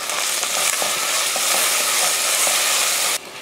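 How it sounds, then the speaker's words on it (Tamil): Onions with ginger garlic paste sautéing in a pan, a loud continuous sizzle with periodic scraping stirs, close up, stopping abruptly near the end. "இஞ்சி பூண்டு பேஸ்ட்டு சேர்த்து நல்லா வதக்கி விட்டுறலாம்"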